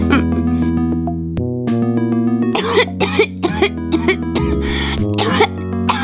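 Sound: cough

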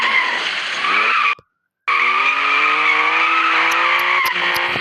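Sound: cars driving and skidding

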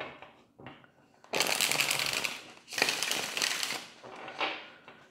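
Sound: shuffling tarot cards

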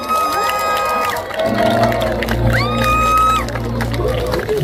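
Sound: audience applause and cheering

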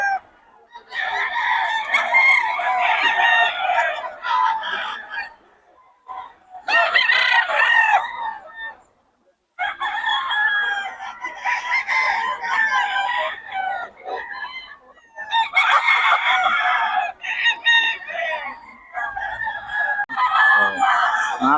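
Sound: roosters and chickens

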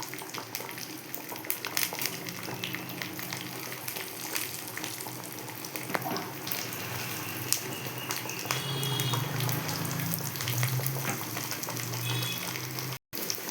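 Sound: onions frying in oil with mustard seeds

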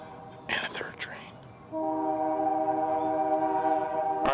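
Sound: passing train

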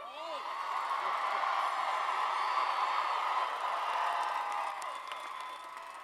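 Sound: graduating class cheering and applauding

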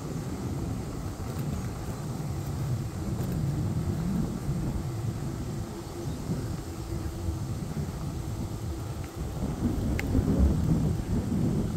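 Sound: wind during a bike ride

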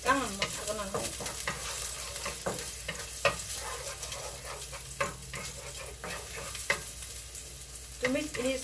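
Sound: stir-frying Hong Kong bok choy in a wok

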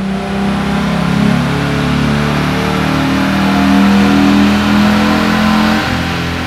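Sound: 1999-2004 Mustang 3.8 V6 engine revving on dyno run

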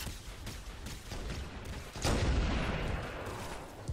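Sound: plasma rifle shots in video game Halo 1

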